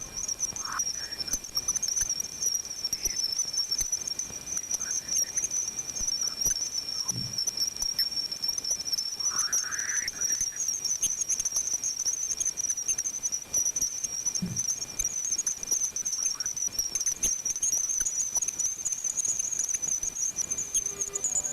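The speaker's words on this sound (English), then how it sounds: "Here's the sound of Jupiter." Voyager 1 plasma wave recording of Jupiter: a steady, eerie high-pitched whine runs throughout, with a few faint scattered rising chirps and a soft hiss underneath, alone and continuous.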